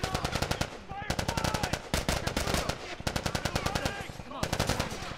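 Automatic gunfire with tracer rounds in The Last of Us Remastered, loud rapid bursts in about four long strings separated by short gaps, close and harsh, with someone talking faintly underneath.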